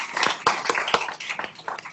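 Scattered, uneven handclaps from a small audience at a university faculty awards ceremony, a few sharp claps spread over two seconds with no talk.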